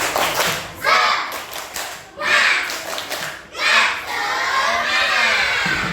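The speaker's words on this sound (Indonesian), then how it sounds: "Tepuk semangat" A classroom of students performs the Indonesian tepuk semangat spirit clap, rhythmic bursts of group clapping alternating with loud shouted chanting and cheering in several phrases.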